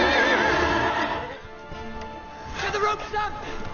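Horse neighing in LEGO Lord of the Rings, a loud whinny at the start that tails off, followed by quieter snorts and hoof sounds with a voice speaking briefly.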